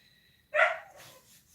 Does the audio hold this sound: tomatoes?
no